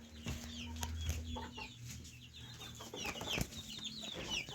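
Five hens and a Leghorn rooster cluck close by in a steady stream of short clucks and chatter, with quieter background bird chirps, no voices.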